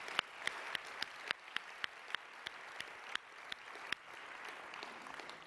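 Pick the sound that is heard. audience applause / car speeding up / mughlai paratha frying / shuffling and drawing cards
audience applause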